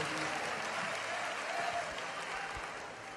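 A church congregation applauds in a continuous, even wash of clapping that fades slightly toward the end, with faint voices beneath.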